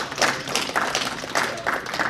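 A small audience at a marketing meetup gives a short burst of applause, with scattered claps arriving in uneven clusters, close and moderately loud for about two seconds.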